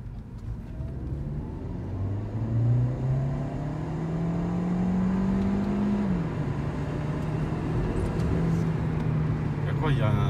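A 2018 Audi A3 hybrid with a 204 hp 1.4 turbo engine hums steadily, its tone climbing slowly and then leveling off, heard from inside the car with faint voices in the background.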